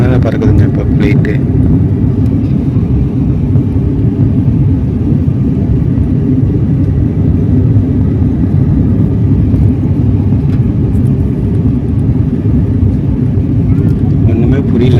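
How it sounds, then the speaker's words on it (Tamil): Steady, loud cabin roar inside an IndiGo passenger jet flying over the sea, a broad low rumble of engines and airflow that holds evenly throughout with no break. "கடல் மேலே பறக்குதுங்க இப்போ ஃப்ளைட்டு"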